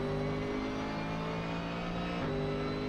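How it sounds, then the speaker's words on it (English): A Corvette GT race car's V8 drives through a turn during qualifying at the Sugo circuit in Japan, heard onboard. The loud, steady engine drone holds a rich harmonic rumble, and its pitch shifts briefly mid-way. "you can hear that mighty V8 rumble"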